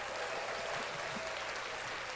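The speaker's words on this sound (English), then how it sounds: "clap that up again" More podcast clapping marking the Eagles' Super Bowl victory over the Patriots: a continuous, even wash of hand claps at steady moderate loudness for the whole stretch, with no talking.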